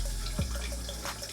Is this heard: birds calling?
no